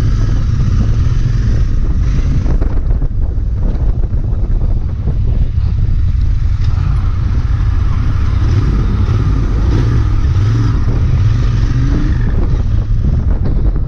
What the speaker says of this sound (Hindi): listen to the whistle of the engine है ना